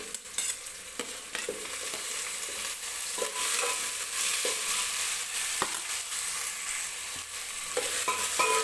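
Potato pieces fry in hot oil in a pan for vegetable pulao, a continuous crackling sizzle with repeated clinks and scrapes of a stirring spoon, close and steady throughout.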